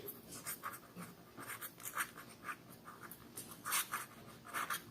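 Pen or chalk writing during a Class 5 Bengali math lesson, a steady run of short scratchy strokes close by, rhythmic bursts for about five seconds with no talking.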